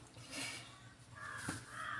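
A crow caws faintly at a distance, a couple of harsh calls rising over a soft, steady outdoor background.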